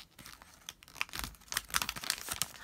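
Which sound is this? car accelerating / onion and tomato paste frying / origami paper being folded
origami paper being folded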